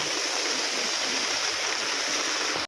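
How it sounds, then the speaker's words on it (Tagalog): A flooded river rushes beneath a bridge in a constant, loud broadband roar of churning water that never lets up. "Yan na po yung ilog, guys."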